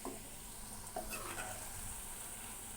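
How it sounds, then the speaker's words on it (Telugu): Cauliflower (gobi) pieces deep-fry in hot oil with a dense, steady sizzle that holds at an even level throughout, with faint bubbling and no voices. "ఇప్పుడు గోబీని డీప్ ఫ్రై చేసుకోవాలి."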